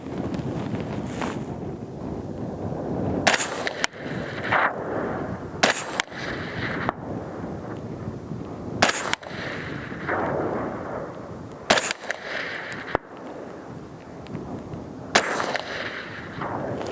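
A PSA M110-A1 rifle in .308 is fired quickly outdoors in wind, giving a string of about eight loud, sharp cracks at irregular intervals over gusting microphone wind noise.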